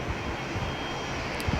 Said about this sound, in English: There's a plane landing.